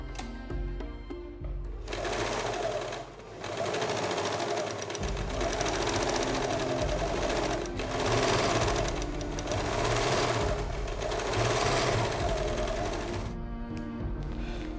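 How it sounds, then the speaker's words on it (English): An overlock machine stitches together two fabric pieces of a reusable sanitary pad, a steady fast mechanical whirring and chattering that runs almost the whole time with brief pauses, loud and close, no speech. "So now we are going to join the 2 pieces using an overlock machine."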